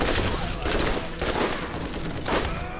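Rapid rifle fire from a strange weapon in the Borderlands video game, sustained bursts of shots crackling at a steady loud level for nearly three seconds, with no talk over it.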